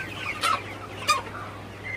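Sonali chickens give two short clucks about half a second apart, close by, after being given water on a hot morning, with a low steady hum underneath.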